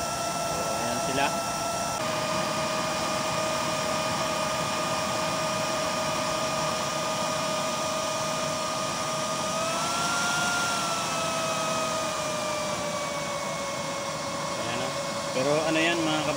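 A gas burner with a 24-hole nozzle and 3-inch chamber roars steadily with a blue flame, a continuous loud whooshing rush whose pitch shifts slightly midway, with someone talking over it.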